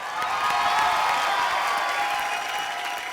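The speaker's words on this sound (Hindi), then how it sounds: "जोरदार तालियां।" A studio audience at a comedy show breaks into applause with some cheering, a steady wash of clapping that swells and holds for a few seconds.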